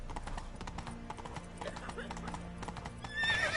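Hooves clip-clop rapidly as the horse Roach gallops in the video game The Witcher 3, a steady patter ending in a whinny, with a voice talking over it.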